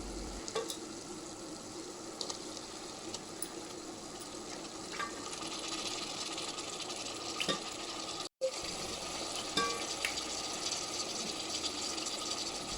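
Washed mutton pieces go into hot ginger-garlic paste in a pan, giving a steady, close sizzle and frying hiss with occasional stirring scrapes, broken by one brief pause.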